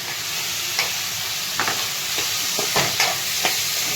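Boiled potatoes going into a frying capsicum sabzi, with a steady sizzle of oil and a few sharp stirring scrapes against the pan.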